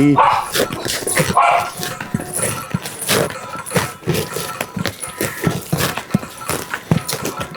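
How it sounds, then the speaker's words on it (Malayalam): A dog barks repeatedly in short bursts along a street during an Onam procession with a man dressed as Mahabali, amid crowd noise and some footstep-like clopping. "പട്ടി"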